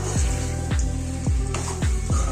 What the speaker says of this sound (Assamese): এতিয়া মাংসটো অলপ আমি লৰাই দিম